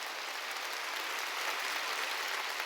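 A church congregation applauding during a Sunday service: a dense, even wash of many hands clapping together, sustained at a constant level throughout.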